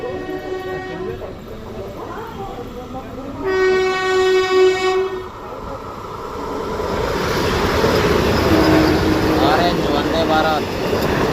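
The Golconda Express runs from Vijayawada to Hyderabad, sounding a long, loud horn blast before a rising, continuous rumble of wheels and carriages that builds and holds to the end.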